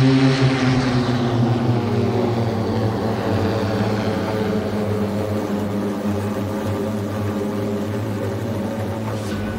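An eVTOL aircraft takes off and flies, a loud steady multi-rotor propeller drone with layered harmonic whine that holds close throughout, easing only slightly as it climbs away.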